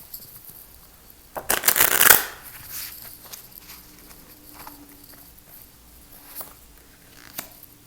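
Tarot cards shuffled by hand during a new moon divination reading, one brief burst of riffling near the start, then faint soft handling sounds.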